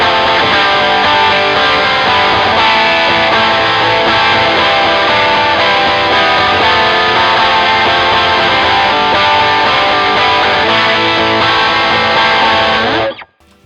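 Electric guitar strummed hard through a distortion pedal with no palm muting, a dense, loud, sustained wall of chords ringing continuously before cutting off abruptly at the end.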